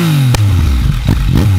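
A 2020 Yamaha MT-09 motorcycle engine heard up close and loud, its pitch dropping and then rising in quick revs with some mechanical clatter, no talk.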